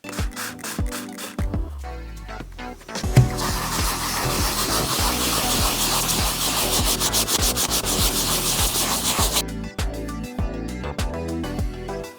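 Hand sanding a leather car seat in a Honda Civic, rapid rhythmic back-and-forth rasping strokes that run steadily and close up for most of the stretch, with slower scattered strokes at the start and end.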